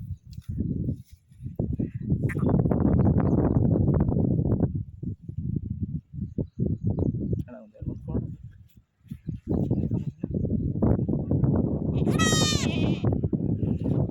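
Newborn lamb or goat kid bleating at a sheep and goat farm in Shivamogga, a high wavering cry near the end, with someone talking loudly and steadily over most of the stretch.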